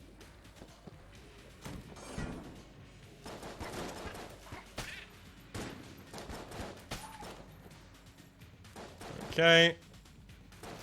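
Smiley's gun firing in Enter the Gungeon, a run of short punchy shots with heavy knockback, the loudest burst near the end, under a player's talk.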